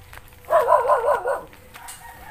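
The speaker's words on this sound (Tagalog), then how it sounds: "Ito, may aso din dito." A dog barks in a quick run of yips about a second long, fairly near, followed by quieter background noise.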